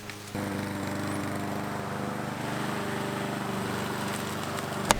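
A steady, rumbling tractor engine drones continuously at close range on a small farm, with a low mechanical chug and a brief clank near the end.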